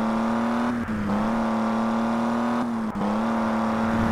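Simulated car engine held at full throttle in a video game, a loud steady high-revving drone with two brief dips where the pitch drops and climbs back, no talking.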